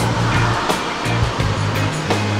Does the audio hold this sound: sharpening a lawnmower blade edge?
no